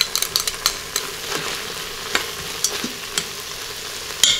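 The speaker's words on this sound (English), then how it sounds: "I'm gonna cancel, saute mode, and add my ginger and garlic" Ginger and garlic sauté in an Instant Pot on saute mode, a steady soft sizzle broken by sharp scraping stirs and clinks that come quickly at first, then grow sparser, close and fairly quiet, with no talk.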